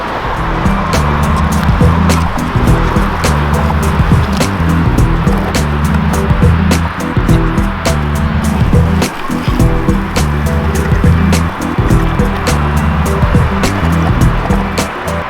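A homemade electric skateboard rolls steadily over pavement, a low electric drone with sharp regular clicks ticking past as the board crosses seams.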